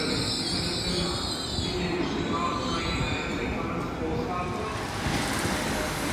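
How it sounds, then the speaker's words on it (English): A South Western Railway train, unit 159019, rolls into Exeter St Davids station with a steady rumble of wheels and faint squeals, and a voice talks over it throughout. "we've got a value delay South Western Railway service coming in, 159019, in front of London Waterloo"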